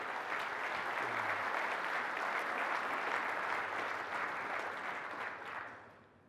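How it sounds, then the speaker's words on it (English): Audience applause after the top three groups are announced at a keynote session in Orlando, a dense, steady clapping from a large crowd that holds evenly for about five seconds and then fades out. "So I give those groups a round of applause."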